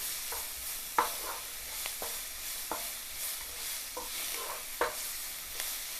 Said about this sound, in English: So we are trying to saute the onions.